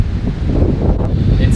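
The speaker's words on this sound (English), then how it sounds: "It's really windy out here" Strong storm wind in Cancun, Mexico buffets the microphone in a continuous low roar with gusty swells throughout.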